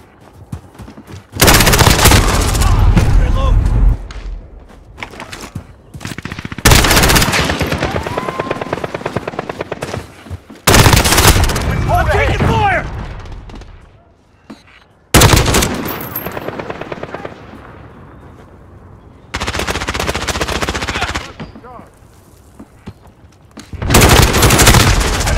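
Loud bursts of automatic gunfire from Call of Duty: Modern Warfare gameplay, coming in several long sustained volleys separated by short quieter gaps, with explosions and battle noise mixed in.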